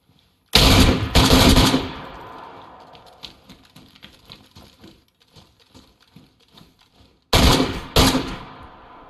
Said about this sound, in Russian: этот бомж стрелял в меня дробью с такого расстояния